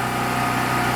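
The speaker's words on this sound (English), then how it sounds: "my chainsaw stalls in between cutting every time I set it down, it stalls" Chainsaw engine idling nearby with a steady buzzing drone and fast even firing pulses, heard close and loud over a single moment without any voices.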